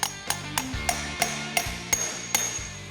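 Light hammer taps seating a bearing race on a Jeep drum brake, nine crisp ringing metallic strikes at an even pace, close and alone.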